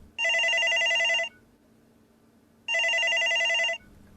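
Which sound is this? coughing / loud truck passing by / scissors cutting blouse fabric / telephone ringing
telephone ringing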